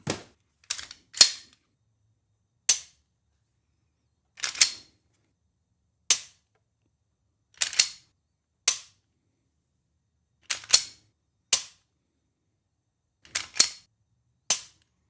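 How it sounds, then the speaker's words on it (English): Glock 19XV trigger clicking sharply on a trigger pull gauge, a series of about a dozen crisp, isolated mechanical snaps spaced irregularly over near silence, close and distinct. "What we're gonna do is we're gonna do 5 trigger pulls."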